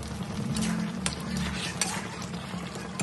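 Mutton pieces with spices and salt are stirred and fried in a pan, giving a continuous close sizzle with scraping and occasional spoon-on-metal knocks, moderately loud and without speech.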